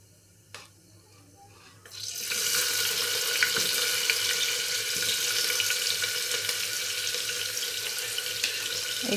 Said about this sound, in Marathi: एक 2-3 मिनिट मी कांदा चांगला फ्राय होऊ देणार आहे.